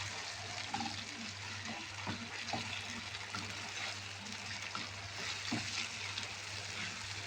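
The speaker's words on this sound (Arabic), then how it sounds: "يلا هنبتدي ننزل بالفراخ بتاعتنا. هتاخد بقى يا حبايبي تحميره" Chicken pieces for fajitas fry in a pan, a continuous close sizzle with light crackles and occasional stirring scrapes, steady and moderate in volume, with no one talking.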